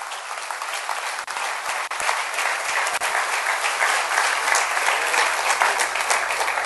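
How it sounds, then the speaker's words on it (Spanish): A church congregation applauds steadily at a pastors' service, a thick, sustained wash of clapping with a few sharper individual claps standing out, close and loud throughout. "Denle un aplauso al Rey bendito."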